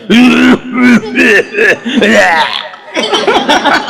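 A voice imitates a harsh, phlegmy smoker's cough during a kirtan, with repeated hacking and throat-clearing bursts that are loud and close.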